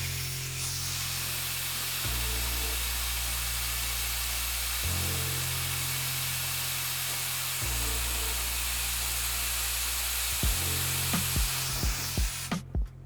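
A blow dryer roars steadily and loudly, its pitch shifting a few times as it's moved or switched, then it stops and a few clicks follow.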